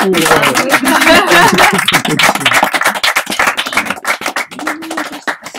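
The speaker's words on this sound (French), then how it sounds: "c'est bien la première fois qu'on m'applaudit" Small audience at a bookshop reading gives a short burst of clapping, loud and dense at first and then thinning into scattered individual claps, with a voice talking over the start.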